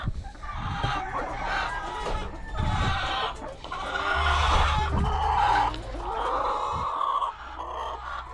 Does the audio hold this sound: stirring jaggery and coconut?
no